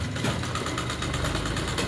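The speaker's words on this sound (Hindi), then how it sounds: "इसको हाथों से प्रेस करते हुए गले की किनारे वाली जगह पे एकदम किनारे पे फिनिशिंग की सिलाई लगाएंगे" A sewing machine runs steadily while stitching the finishing seam along the neckline edge of a katori-cut blouse, a continuous close whirring motor hum with rapid needle rhythm throughout, no voices.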